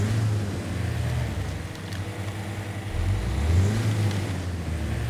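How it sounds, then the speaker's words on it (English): Car engine from Expeditions: A Mudrunner Game, a steady low drone with rising revs partway through, loud and continuous with no talking over it. "Yeah, I honestly don't like this car's engine sounds. It's very annoying, actually."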